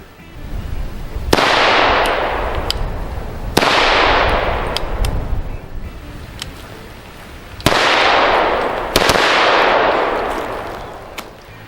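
A Shaolin Rifleworks 300 Blackout carbine fires four loud, widely spaced single shots, each a sharp crack followed by a long rolling outdoor echo.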